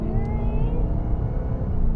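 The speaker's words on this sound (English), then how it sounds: "They love the whining sound like this." Engine whine from a 2020 Dodge Charger Hellcat under acceleration, with thin rising tones over a heavy low rumble, loud and steady for two seconds from inside the car, with no speech.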